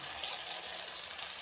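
A blended mixture pours into a cooking pan in one brief, soft, continuous splashing gush, heard close with no talking.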